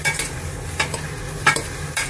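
A spoon stirs cauliflower soup frying in a pot, a few scraping strokes spaced through a steady low sizzle, close and clear with no voices.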